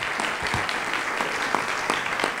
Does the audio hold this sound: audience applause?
yes